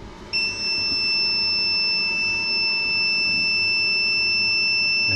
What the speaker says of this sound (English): And listening to the very loud beep that it makes.